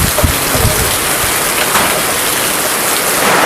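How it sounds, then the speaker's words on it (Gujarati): Heavy monsoon rain in a Botad village pours down steadily in a dense, loud, unbroken hiss, with no voices. "અત્યારથી આવે જોરદાર હાલતો વરસાદ"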